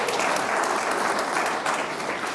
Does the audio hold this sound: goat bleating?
no